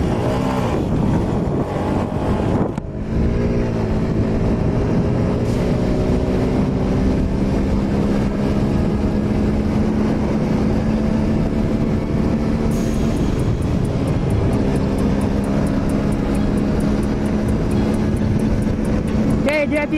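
Yamaha 135LC FI motorcycle engine revving hard under full acceleration in a top-speed run, a steady loud drone with rising pitch through gear changes, dipping briefly between shifts, with a rider talking over it.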